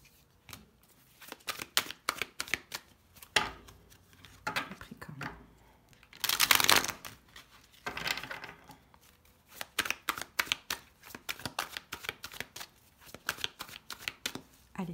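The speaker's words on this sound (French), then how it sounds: "on va poser les 6 cartes pour comprendre" Tarot cards shuffled and dealt out onto a table close by, with rapid riffling bursts, a louder flurry midway and crisp snapping lays, while a voice murmurs faintly in the background.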